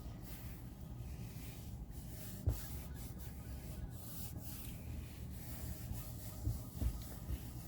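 Hands rubbing mineral oil into a dry wooden block, a soft continuous close-up friction with a couple of faint knocks against the wood.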